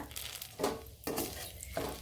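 Cumin and homegrown bay leaves frying in hot oil for a Bengali fish and taro curry, giving a steady sizzle with several louder crackling bursts and faint utensil scrapes.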